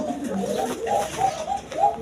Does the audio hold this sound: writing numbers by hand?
no